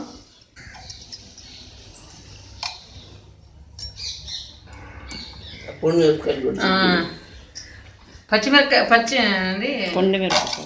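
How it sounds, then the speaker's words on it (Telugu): A traditional kathipeeta blade chops vegetables in a home kitchen with a series of soft, close taps and scrapes, and someone talks over the later part. "సో ఫస్ట్ సారి నేను కత్తిపేటతో తరుగుతున్నాను. చూడండి ఎట్ట తరుగుతున్నాను."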